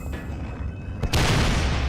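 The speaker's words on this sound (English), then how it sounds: "Got an explosion right in his face." Explosion in a horror video game, a sudden loud boom that breaks in after a quieter stretch and rumbles on to the end.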